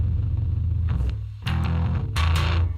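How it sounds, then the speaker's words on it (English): Bass guitar played through a Tube Screamer distortion pedal, giving a loud, fuzzy, sustained low tone with a few bright picked attacks and brief pauses between notes. "I'm gonna try a Tube Screamer. I don't know how it's gonna sound on a bass guitar"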